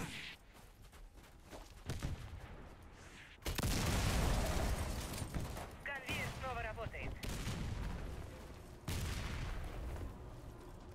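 Grenade explosion and gunfire in the video game Warface, a loud burst of blasts and rattling shots, then sustained heavy combat noise with brief voice calls mixed in.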